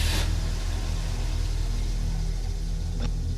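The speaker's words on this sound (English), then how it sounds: "He started the engine, his mind racing as fast as the truck down the road." A truck engine gives a low, steady rumble while driving, with a short burst of noise at the very start and a brief click near the end.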